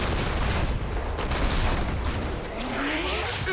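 Dense video-game gunfire in a match, a continuous barrage of shots and booms filling the whole stretch, loud and close with no pauses.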